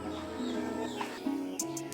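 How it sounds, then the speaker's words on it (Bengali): Birds call on a quiet village morning in the countryside, giving a few faint chirps and brief high tweets over a soft, humming background. "আমাদের গ্রামের সকাল মানে হচ্ছে পাখির ডাকে ভর্তি।"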